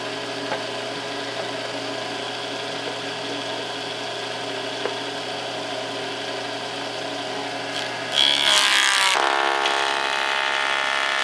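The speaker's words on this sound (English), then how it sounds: "you heard it slow down, and I was pushing a little faster" A 10-inch Delta table saw hums steadily with woody cutting texture while ripping a board, then its pitch shifts and grows louder near the end as the blade bites harder and slows.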